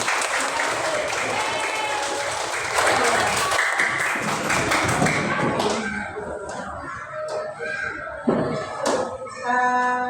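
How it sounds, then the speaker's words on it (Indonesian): Schoolchildren in an Indonesian elementary classroom clap for a classmate, a dense burst of hand claps that thins out into scattered taps, thumps and a desk or door knock, with children's voices chattering underneath. "Kasih dulu tepuk tangan untuk kawan kita."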